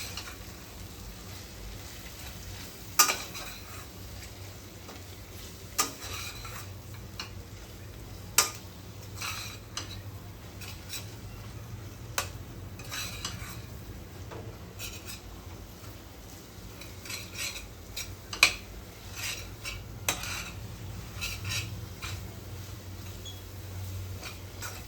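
Homemade garam masala and chili powder fry quietly in a pan for a kolambi masala, a soft steady sizzle broken by occasional sharp clicks of a spoon against the pan, close by with no talking.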